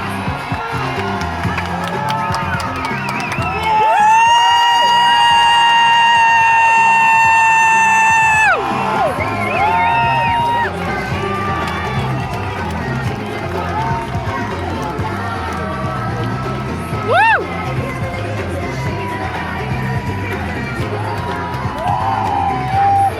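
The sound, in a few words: loud cheering at a protest, played recording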